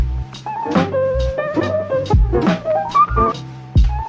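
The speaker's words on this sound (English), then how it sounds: "So you want to make lo-fi beats that sound like this?" A mellow, lo-fi hip hop beat with soft kicks, dusty drums and warm keys carrying a gentle melody at a relaxed tempo.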